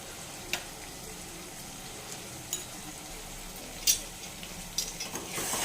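Chicken frying in a pan with ginger garlic paste, a soft continuous sizzle punctuated by a few sharp spatula scrapes and clinks, close and fairly quiet.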